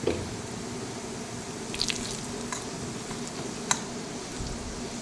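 Onions and chili powder fry in a pan for a prawn and mango curry, making a continuous close sizzle with faint crackles and one sharp click.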